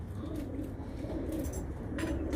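Pigeons cooing in a coop in Ankara, a steady, low, murmuring coo from several birds that carries on without a break, with no voices.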